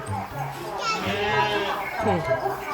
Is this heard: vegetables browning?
no